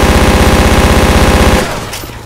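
Rapid automatic gunfire from the zombie shooter Left 4 Dead, loud and close in a steady fast burst that stops abruptly, then fades into quieter game ambience.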